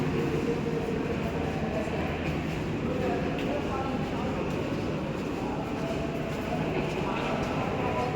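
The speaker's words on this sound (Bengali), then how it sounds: "এই যে ট্রেন।" An underground metro train rumbles steadily in a low, continuous roar, fairly close, with people talking faintly underneath.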